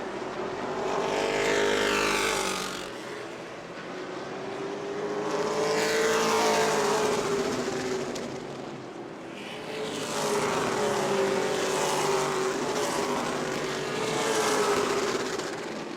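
Super late model race cars circle the New Smyrna short track in a Hoosier Series event, their engines swelling and fading in repeated pass-by sweeps, loud and continuous with no talk.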